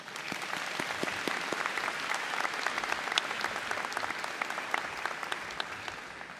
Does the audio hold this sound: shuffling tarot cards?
no